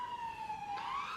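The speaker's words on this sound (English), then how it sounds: "I hear sirens" A police siren wails faintly in the distance, a single rising-and-falling tone lasting about a second, with no talk over it.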